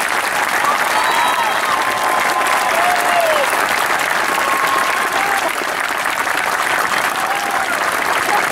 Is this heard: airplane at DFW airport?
no